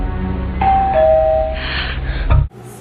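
A doorbell gives a clear two-tone ring, loud and close, the chime tones sustaining before a sharp cut-off into quiet.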